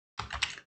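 A single press of a computer keyboard key during accounting software data entry, a short soft clack heard alone, close and fairly quiet.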